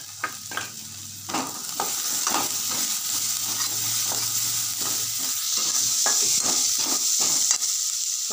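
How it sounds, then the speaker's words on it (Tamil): Onions and spices sautéed with turmeric powder in a pan for a butter bean and mushroom gravy, a steady close sizzle with repeated scrapes and stirring strokes throughout, no talking. "மஞ்சத்தூள் போட்டு நல்லா அதையும் வதக்கிட்டு"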